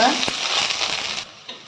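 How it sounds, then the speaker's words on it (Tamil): Onions sizzle and fry in a pan for mint chutney, a steady close hiss with a few stirring scrapes, cutting off abruptly near the end. "இதை நல்லா வதக்கி எடுத்துக்கலாம்"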